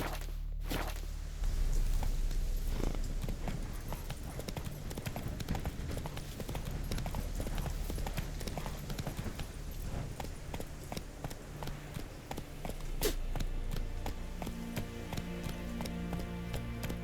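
Roach, Geralt's horse in The Witcher 3: Wild Hunt, trots with a quick, regular clip-clop of hooves that runs close and steady throughout, with faint ambient sound beneath.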